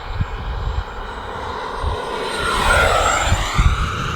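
A large RC F-16 jet model roars past in flight, a steady loud turbine whoosh that swells as it nears, with faint wind thumps underneath.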